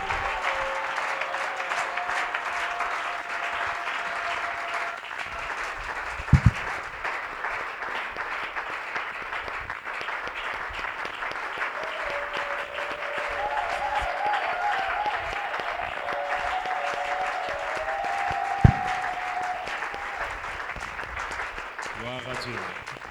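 Church congregation applauding during a worship service, sustained dense clapping from a crowd filling the room, with voices over it and a couple of sharp knocks.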